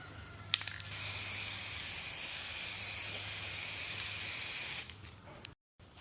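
Seymour filler primer is sprayed from an aerosol can in one long continuous hiss lasting several seconds, close and steady, stopping abruptly near the end.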